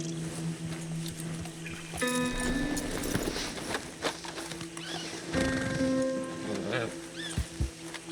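Rhythmic hoof clip-clop of a horse moving at a steady gait in the video game Red Dead Online, with game music and occasional voices layered over it.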